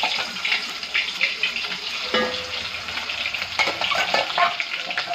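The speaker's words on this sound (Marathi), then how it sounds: "आता ह्याच पातेल्यामध्ये फोडणी देते." Tempering hisses and sizzles in hot oil inside a cooking pot, a dense steady crackle close by, with a few stirring clinks.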